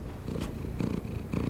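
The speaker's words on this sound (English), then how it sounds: "That sound is purring," A cat purrs softly and close up, a low rumbling purr pulsing in steady breaths over about a second and a half, with no other sounds.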